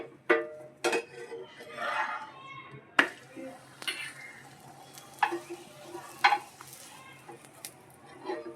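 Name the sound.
paratha roasting with oil on a pan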